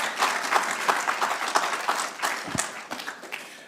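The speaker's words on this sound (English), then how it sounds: "Can we encourage her with a round of applause?" An audience at a press conference on a subsidised tertiary education funding model applauds a speaker. Steady, moderately loud clapping from many hands carries on without a break.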